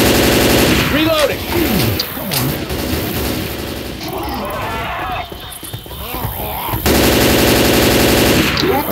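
Rapid machine-gun fire and shots rattle loudly in the Left 4 Dead 2 video game, with bursts continuing for several seconds amid game noise and voices.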